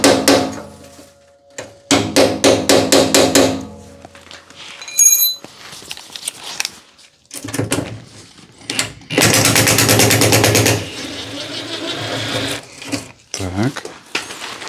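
Chisel struck repeatedly to pry the front panel off a Haier water dispenser, giving bursts of sharp, closely spaced metallic knocks and clatter, loud and near, separated by pauses and handling noise.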